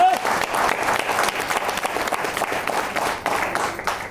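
Applause from a seated audience in a large hall during a seminar program, steady dense clapping sustained throughout at moderate loudness, with no talk over it.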